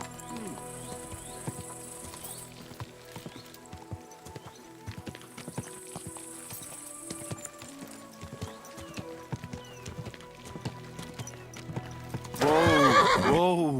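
A horse in the medieval game Kingdom Come: Deliverance II clops along with steady hoofbeats and snorts, and a loud whinny bursts out near the end.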